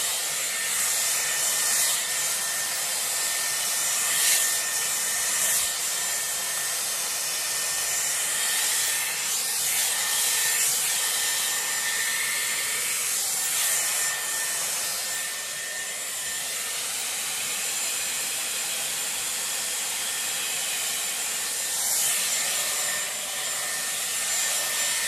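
A Dyson Airwrap round brush blow-dries hair, its steady airy whoosh running continuously and close at fairly even loudness, with faint brushing rubs through the hair and no talking.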